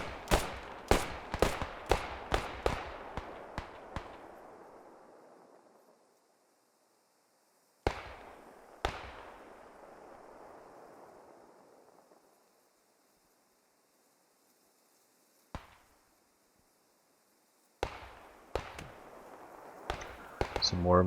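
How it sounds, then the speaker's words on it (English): Mortar shells fired in a war video game thump out in a rapid volley of sharp booms with long decaying tails, then sparser single blasts and another cluster near the end, separated by stretches of quiet. "Some more mortar shells going out."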